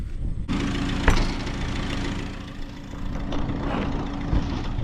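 An International tractor engine runs on a farm during grass cutting, a steady mid-low idling drone with a few brief knocks and clanks over it, fairly close and continuous.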